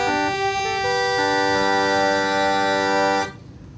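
Uilleann pipes regulators sound sustained accompaniment chords, steady reedy tones held for a few seconds before cutting off.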